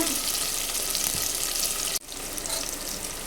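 Onions fry with green chillies and curry leaves in hot oil, giving a loud, continuous close sizzle, with a brief stirring clatter and a momentary dip partway through.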